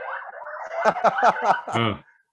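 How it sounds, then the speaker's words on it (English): An ambulance siren outside a home near central Sydney, wailing in rising and falling sweeps that stay loud and clear for about two seconds, then cut off abruptly. "there's an ambulance station not far away, so get ambulances a lot around here, a lot of cop cars and stuff"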